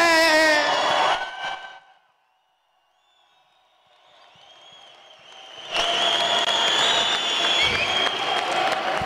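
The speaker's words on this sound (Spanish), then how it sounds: "Fuerte el aplauso para Huicho Domínguez." Audience applause and cheering at an Alcoholics Anonymous event at Hacienda Nueva Vida in Mexico, a loud burst fading to near silence, then swelling back into sustained clapping with whoops from the crowd.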